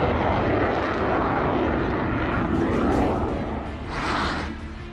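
A Rafale fighter jet flies over on combat air patrol above Ladakh, a loud, continuous roaring rush that swells, eases slightly, then surges again as it passes.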